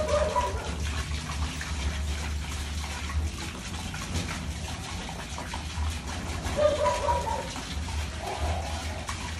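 Water poured into a bath for Japanese birds, a steady gushing, tap-like flow heard close and fairly loud, with faint chirps and brief rustling over it.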